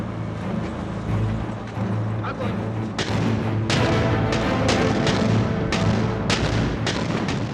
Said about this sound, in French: le plus grand tir de barrage d'artillerie de la guerre commence